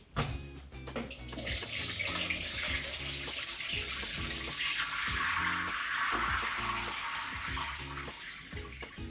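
Tap water gushes steadily over salted Chinese cabbage being rinsed for kimchi, a loud, close, continuous splash that starts after a brief moment and holds to the end.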